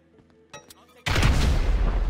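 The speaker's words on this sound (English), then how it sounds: "An explosion will tend to do that." Sticky bombs detonate in Grand Theft Auto 5 during a rooftop raid on a building: after quiet clicks and faint game sounds, a sudden loud blast erupts and rumbles on continuously without pause.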